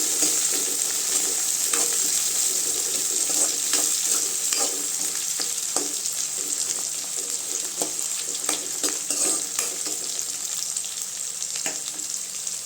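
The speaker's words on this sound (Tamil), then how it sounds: "வெங்காயம் வெங்காயம் நல்லா வணங்கட்டுங்க நல்லா செவந்து வந்தால் தான் நல்லாயிருக்கு வெங்காயம்" Onions sizzle steadily in hot oil in a pan for a Tamil tomato chutney with curry leaves, a dense constant frying hiss with scattered crackles and stirring clicks, close and continuous throughout with no talking.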